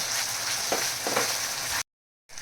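Spice masala of roasted onion, coconut and coriander frying in oil for a village-style spicy egg curry, a close, steady sizzle with a couple of stirring scrapes before it cuts off briefly.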